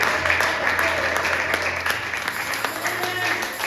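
A church congregation at a Sunday service in the francophone Pentecostal style breaks into applause, a dense, fairly loud wash of clapping that sustains throughout the short stretch, with a low hum and crowd voices mixed beneath.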